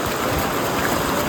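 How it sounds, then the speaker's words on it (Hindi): Heavy rain pours in Rishikesh with water flowing, making a dense, steady hiss that is loud and close, with no voices. "और बारिश देखते ही देखते बारिश है ना वो और तेज होती चली जा रही है"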